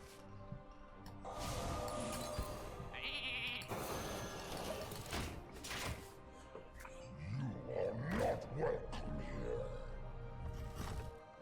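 A cartoonish sheep bleats amid layered game effects and chimes from the Polymorph spell in the Hearthstone card game, with a roar-like creature sound earlier.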